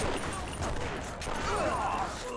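Shotgun blasts in a third-person shooter game on the original Xbox, dense and continuous with overlapping bursts, while people talk over the gunfire.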